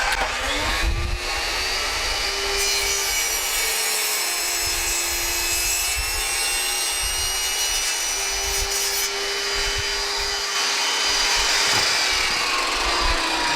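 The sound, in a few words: power saw cutting wood for a fridge drawer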